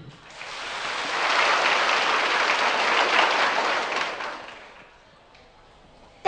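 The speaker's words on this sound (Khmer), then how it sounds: "សូមយើងទាំងអស់គ្នាទះដៃខ្លាំងដើម្បីថ្លែងអំណរគុណដល់ក្រុមនាដការដែលបានសម្ដែងអំបញ្ញមិញនេះ" Audience applause for a dance troupe at a Khmer village Ancestors' Day (Pchum Ben) 2012 stage programme, a broad sustained clapping that swells for a few seconds, then thins out and fades to quiet.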